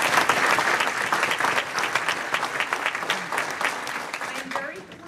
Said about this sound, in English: we applaud the class of 2022 and the new members of the class of